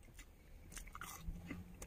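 A crunchy snack is bitten and chewed close to the microphone, giving a few quiet, sharp crunches and crackles over soft background noise.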